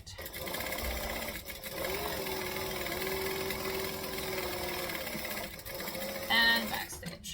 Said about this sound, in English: And then I'm going to stitch along that bottom and close the pocket.